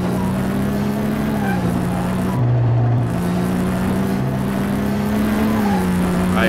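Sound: Beetle with Porsche turbo engine revving, from video game Car Mechanic Simulator

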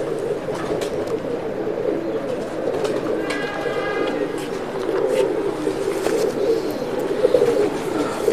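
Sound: pigeon cooing

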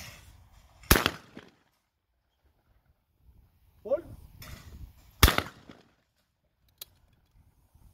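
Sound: shotgun shots at clay targets

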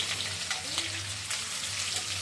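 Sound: garlic frying in oil

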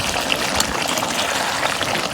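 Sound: pouring water into chicken curry cooking on clay stove

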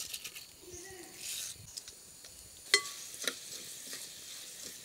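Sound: mustard seeds and spices sizzling in coconut oil tempering

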